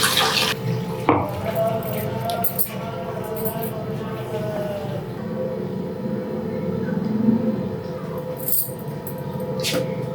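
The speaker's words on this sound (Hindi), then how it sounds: "जब आप इसे मल के ऐसे धो लेंगे 3-4 बार, तो ये इसकी जो लेसेस है तो इसका एक्स्ट्रा स्टार्च है वो निकल जाएगा सारा।" Sago pearls rubbed and washed by hand in water, giving a continuous close splashing and sloshing with running-water wash sounds and occasional drips.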